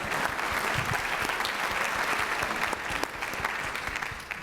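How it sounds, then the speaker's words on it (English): An audience at a live talk with writer Kaveh Akbar claps steadily in a dense, sustained round of applause that fades slightly toward the end. "That's a round of applause for Aaron"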